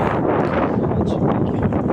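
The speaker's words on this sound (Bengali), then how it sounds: "হাওয়া একটু বেশি আছে।" Strong wind blows outdoors on a sunny day after winter rain in Saudi Arabia, buffeting the microphone with a loud, steady roar that never lets up.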